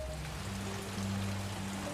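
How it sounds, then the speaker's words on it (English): Steady rain falls in Iowa, a soft, even patter with faint, low hums running beneath it, quiet and continuous with no voices. "That was that's a live shot of Iowa today. Actually got some rain."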